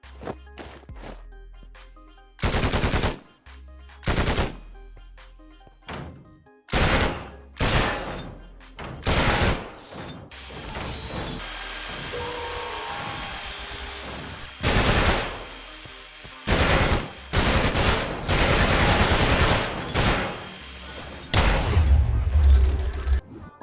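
Video game gunfire from a Minecraft Arc Raiders guns mod with SMGs, pistols and sniper rifles: loud separate shots and short bursts at irregular spacing, with gaps of quieter game sound between them.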